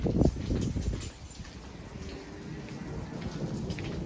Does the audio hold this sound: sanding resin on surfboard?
no